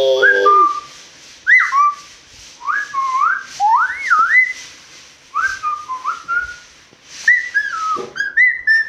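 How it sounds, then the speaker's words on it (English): A person whistles a series of short rising and falling phrases, clear and close, with brief pauses between them. "Can you whistle properly?"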